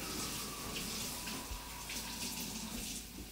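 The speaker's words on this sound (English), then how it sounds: "let me rinse off my knife." Kitchen tap running while a knife is rinsed under it, a steady close hiss of flowing water with faint splashing and no talk.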